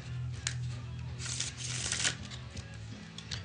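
Stiff playing cards are riffle shuffled close by, giving bursts of rapid fluttering clicks as the halves interleave, over a steady low background hum.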